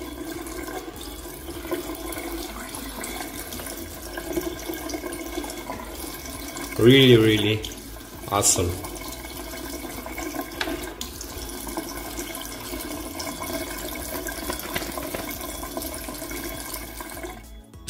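Water runs steadily over conductive ink made from waste plastic, a continuous close tap-like stream with two short splashy surges midway, while a voice speaks briefly.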